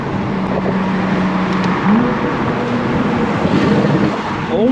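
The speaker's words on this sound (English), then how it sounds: "this thing has a Valvetronic exhaust. The valves are probably closed." Tuned BMW F80 M3 with its Valvetronic exhaust valves open, a loud close engine drone rising and falling in pitch as it revs, under steady road and wind roar.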